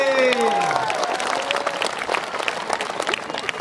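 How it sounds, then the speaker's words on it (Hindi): Congregation applause at a church gathering with baptism, a dense burst of clapping that starts as a voice trails off, holding steady and fairly close for a few seconds. "ताली बजाएंगे प्रभु के लिए।"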